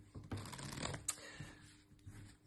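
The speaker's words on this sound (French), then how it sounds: "vous demandez à votre spectateur de le mélanger rigoureusement" A deck of cards is shuffled vigorously close up, giving a quiet run of rapid riffling and flapping that lasts about a second. A few soft taps and handling sounds follow, with no voices.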